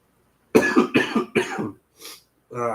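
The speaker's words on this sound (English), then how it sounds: "Sorry for coughing." A person coughs several times in a close, harsh burst of three, followed by a softer throat sound and a final cough.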